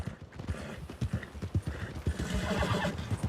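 Horse hooves clip-clopping at a steady walking rhythm in Red Dead Redemption 2, close and clear, with a horse whinnying partway through and no talk over it.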